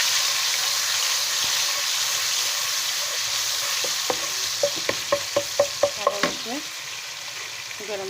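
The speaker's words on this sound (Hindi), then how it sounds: "लहसुन अदरक के पेस्ट को हल्का सा सौटे करेंगे।" Garlic ginger paste sautéing in a pan for arvi chicken, a continuous sizzle with a run of sharp, rhythmic scraping taps from stirring in the second half, fairly close and with no voices.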